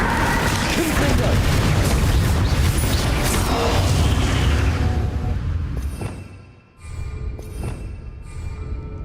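A Confringo fire spell explodes in the video game Hogwarts Legacy, a loud continuous booming blast that fades after several seconds into a softer rumble with a few sharp pops.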